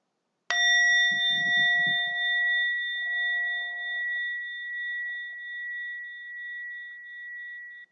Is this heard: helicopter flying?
no